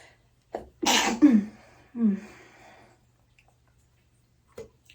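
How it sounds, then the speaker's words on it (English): A single close sneeze with a sharp inhale before it, followed by a breathy exhale, then quiet. "I'm going to sneeze."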